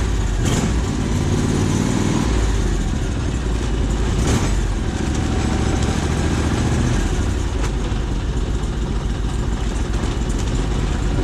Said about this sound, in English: I might give this a bit of a rev just for you guys that like the sound of engines